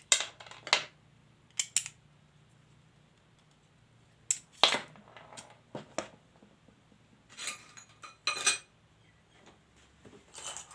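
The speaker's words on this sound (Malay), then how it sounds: "Kenapa bunyi ting-ting tu penting lah juga" Sharp metallic ticks and rings from a large folding knife's blade come in scattered pairs and clusters, bright and clear against a quiet background with a faint low hum.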